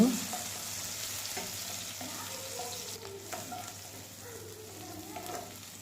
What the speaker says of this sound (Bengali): এবং শুটকিও দিয়ে দিব। আমি 2 মিনিটের মতো ভেজে নিব।